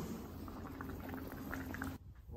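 Radish and beef offal bubble in a covered pot on low heat for Hong Kong-style beef offal, a close, quiet, steady simmer that ends abruptly. No voices are heard.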